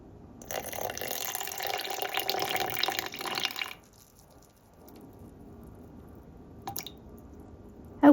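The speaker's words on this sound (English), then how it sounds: "I'm gonna add 50 grams of warm water" Warm water poured into a sourdough starter jar makes a soft, close trickle for about three seconds, followed by near quiet and a few faint clicks.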